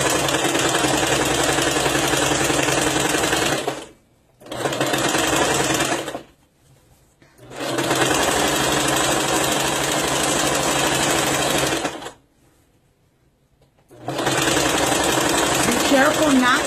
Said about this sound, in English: Still keeping your machine at the widest stitch